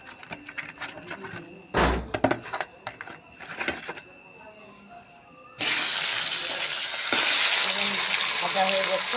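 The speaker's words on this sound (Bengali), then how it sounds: "এখন মাছের মাথাটা ভেজে নেব, হলুদ লবণ লাগাইনি।" A fish head, unseasoned with no turmeric or salt, dropped into hot oil bursts into loud, continuous sizzling frying after a stretch of quieter clinks and scraping, the sizzle holding steady to the end.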